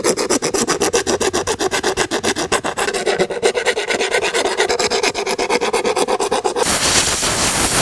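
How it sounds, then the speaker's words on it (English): A small file smooths the cut edge of acrylic for a custom instrument cluster, fast rhythmic rasping strokes repeating steadily, loud and close, with no talk. "A little file should clean up that slag."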